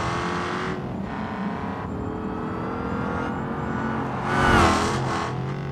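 A race car driven hard on a tarmac hill climb in BeamNG.drive, its engine whining at sustained high revs with shifting pitch, surging louder near the end as it accelerates down a straight.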